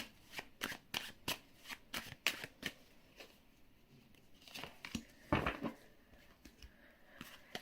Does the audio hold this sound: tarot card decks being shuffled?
yes